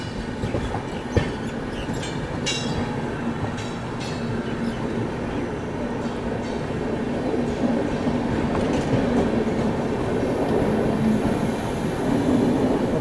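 The Dibrugarh–New Delhi Rajdhani Express passing in fog, with a steady loud rumble of railcars and rhythmic wheel clatter that keeps going throughout, with a faint squeal near the end.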